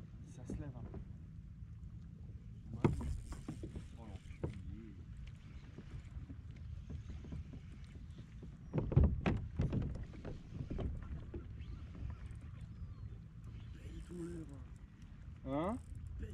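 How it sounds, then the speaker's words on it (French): Wind blowing outdoors on a boat while sea bass fishing with lures, a steady low rumble of moderate loudness with water and boat noises, under people talking in French. "Il me semble qu'il y a un peu de vent."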